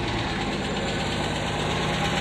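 A 1964 Rambler American 440 hardtop idles steadily just after starting, a close, even engine rumble held at a constant level with a faint knocking texture and no voices.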